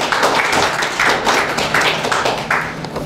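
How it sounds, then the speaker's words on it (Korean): A forum audience claps for an introduced guest at a founding ceremony, a steady round of applause with rhythmic pulses, fairly close and loud, with no talking over it. "박수로 해주십시오."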